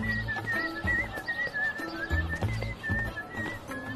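A person whistles a wavering, cheerful tune in a dubbed Spanish drama scene, clear and sustained over background music with low rhythmic thumps.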